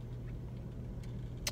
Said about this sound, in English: I'm in the car.